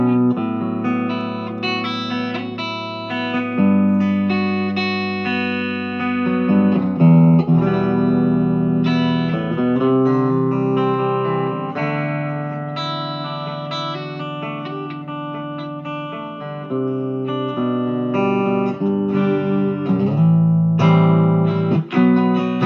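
Sire S7 electric guitar with its coil split for a Stratocaster-style three single-coil tone, playing chords and melodic lines continuously at steady volume, with no talking.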